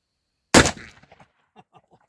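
One loud, close shot from a Smith & Wesson Model 29 revolver cracks out sharply, followed by a fading echo and a few faint knocks.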